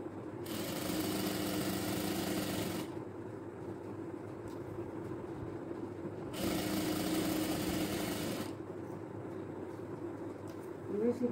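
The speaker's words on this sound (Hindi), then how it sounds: "अब इसमें साइड की सिलाई कर रही हूँ।" A sewing machine stitches the side seam of designer trousers in two steady whirring runs of a few seconds each, close and fairly loud, with a faint background hum and a voice speaking between the runs.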